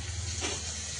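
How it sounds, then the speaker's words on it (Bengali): Fish frying in a pan in a home kitchen gives a steady, close hiss of sizzling oil that runs evenly throughout, with no talk. "তো এই এখন মাছ ভাজতে বসে আছি।"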